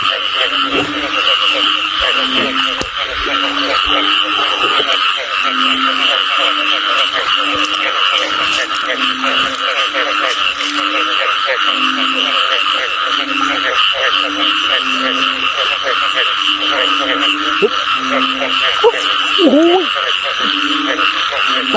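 Dense chorus of frogs croaking after heavy rain in a rural village, loud, continuous rhythmic calls layered with a steady insect-like buzz, with a brief voice near the end.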